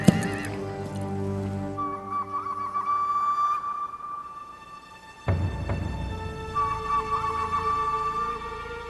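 A horse whinnies loudly, then again after a brief pause, with hoofbeats clopping beneath; no talking.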